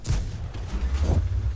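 The FV215b 183 tank destroyer fires its cannon in World of Tanks. A single heavy, low boom is followed by a rolling rumble, loud and close.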